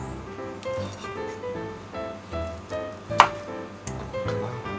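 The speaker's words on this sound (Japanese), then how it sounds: "筋肉を一口サイズに切っていきます" A knife chops beef tendon into bite-size pieces on a board, a series of close, soft cutting thuds at an irregular pace, with one sharper knock partway.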